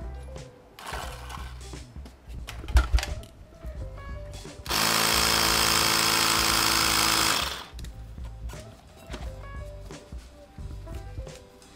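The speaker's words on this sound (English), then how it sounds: "we're gonna inflate that to make sure that it's not pinched" An air pump inflates an electric scooter tire on a split rim, running as one loud steady burst of several seconds between quieter handling clatter.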